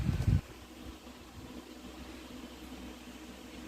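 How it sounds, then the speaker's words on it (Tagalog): An electric fan aimed at a sleeping person in a hot countryside home in the Philippines at midday gives a steady, close whir with airy noise, after a brief louder rustle at the start; no one speaks. "Nakatutok yung electric fan."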